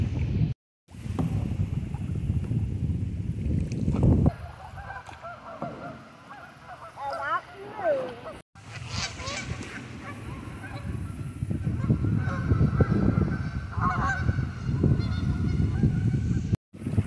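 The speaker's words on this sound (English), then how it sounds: "Here's some of our geese friends." A large flock of geese honks on the Little Red River in Arkansas, heard from a kayak, with wind buffeting the microphone; the calls come in near, overlapping bursts, thinning briefly midway before rising again.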